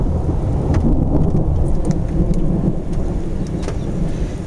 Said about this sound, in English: Now these storms just popped up probably about a half hour ago